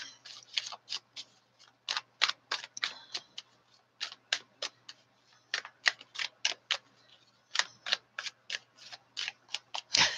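Tarot cards are shuffled in quick bursts of crisp papery riffles and taps, close and fairly quiet, with short silent gaps between the flurries.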